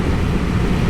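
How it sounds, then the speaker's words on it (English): A big Kawasaki Z900RS motorcycle engine idles high while cold just after startup, giving a steady, loud, low growl that holds evenly throughout with no talk. "this big Z900 just sits there and growls at you."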